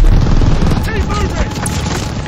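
Dense battlefield gunfire and explosions from the Call of Duty Vanguard campaign roar continuously, with machine gun bursts blending into a loud wash as shouted voices call out over the din.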